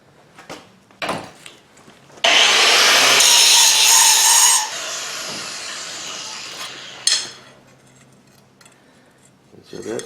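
An angle grinder bites into a forged butcher knife clamped in a vise, a loud harsh burst of about two seconds that then tapers into a quieter grinding whine, with a few clanks and knocks before and after.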